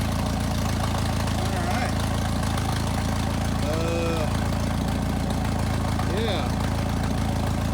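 A Jeep YJ engine idles steadily with a low, constant rumble throughout, while someone speaks briefly over it.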